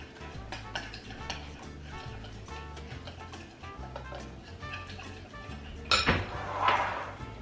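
A marinade of olive oil being mixed in a bowl for fish tacos, with a steady rhythmic clinking and scraping of a utensil, close and fairly quiet, ending with a couple of louder knocks and rattles.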